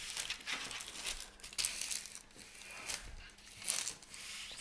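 Parchment paper lining a half sheet pan is creased and folded to fit, giving close, intermittent crinkling bursts in a quiet kitchen.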